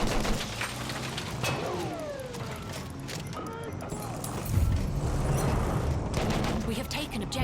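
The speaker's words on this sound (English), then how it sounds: "Enemy machine gun over there!" Gunfire from a Battlefield 1 battle rattles continuously through a dense, noisy soundscape, with bursts and booms layered under excited voices calling out.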